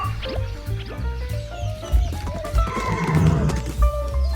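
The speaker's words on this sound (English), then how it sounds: "Horse." A horse neighs and whinnies over a backdrop of music, a loud and close call that rises and falls across the clip with no talking.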